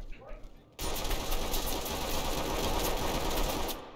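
Sustained rapid gunfire in the tactical shooter Ready or Not, bursting in loud and dense after a brief quieter lead-in with faint voices, then continuing steadily to the end.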